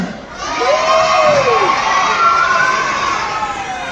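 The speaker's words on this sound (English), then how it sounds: "can I get a loud cheer?" A crowd of children lets out a loud, sustained cheer at a science demonstration with liquid nitrogen, high shrill voices and screams rising and holding for several seconds close by.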